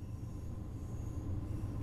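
A train in Train Sim World 2 runs with a low, steady rumble and soft wheel noise, heard alone at a moderate, even level.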